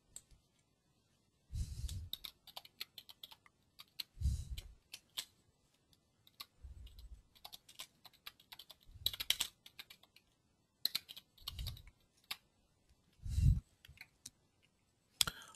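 Computer keyboard typing to enter a design name, close and fairly quiet: several short bursts of rapid key clicks separated by pauses, with a few heavier thumps.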